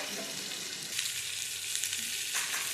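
Masala and potatoes fry in hot oil with a loud, continuous close sizzle, and a fresh hiss surges as a little water is poured into the pan.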